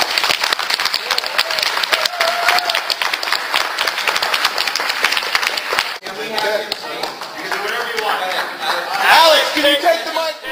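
A crowd at a political debate viewing party breaks into loud applause and cheering, with talk and chuckles mixed in, then the noise thins into voices and scattered laughter.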